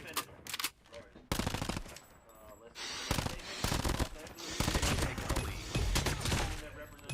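Rapid bursts of automatic gunfire crackle through a video game shootout, loud and close, broken by short pauses and sharper single shots.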